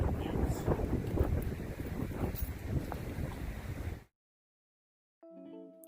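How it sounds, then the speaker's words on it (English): Strong wind buffets a microphone outdoors for about four seconds, a loud broadband rumble that cuts to silence before a faint tonal sound returns. "It's a little windy out here"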